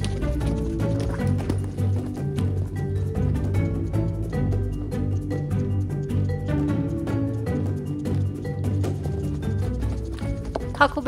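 Horses move about with a dense patter of hoof clip-clops and thuds, irregular and close, under constant low background noise.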